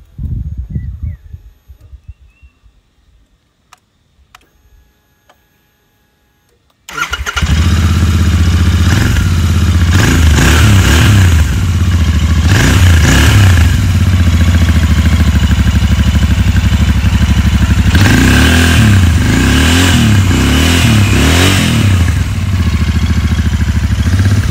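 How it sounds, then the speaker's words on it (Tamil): A 2020 Royal Enfield Interceptor 650 BS6 motorcycle fitted with a tuned exhaust fires up after a few seconds of quiet handling noise, then idles loud and close with a deep thump and is revved in several bursts. "இப்போ இந்த பைக்கு வந்து ட்யூன் எக்ஸஸ்னால இதோட எக்ஸஸ் சவுண்ட் எப்படி இருக்குன்னு பார்ப்போம்."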